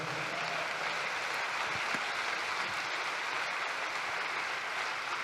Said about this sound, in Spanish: Aplauda la grandeza de Dios.